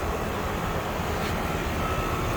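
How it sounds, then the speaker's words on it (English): An R22 air conditioner compressor runs with a constant, even mechanical hum and broadband whoosh, moderately loud and unchanging from start to finish, with no speech. "For the compressor, you can hear it."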